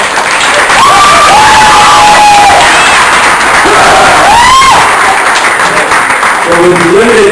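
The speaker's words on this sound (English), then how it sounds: "Let's get another round of applause." Sustained audience applause with cheering and whoops from a crowd at a poultry industry event, loud and continuous over mixed voices.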